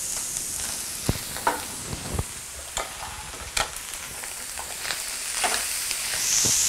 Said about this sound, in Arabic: we will add it back to the skillet